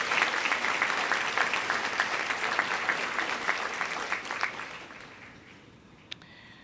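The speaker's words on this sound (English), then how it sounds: "Let's give her a round of applause in her absence." A round of applause at a school board medal assembly, a dense crowd clapping steadily, then fading out over several seconds with one late clap.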